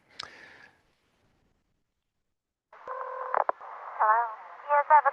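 A recorded ham radio phone patch from Vietnam, made at Christmas time, with a brief radio burst, a stretch of silence, then sustained tonal signaling and warbling radio tones growing louder near the end.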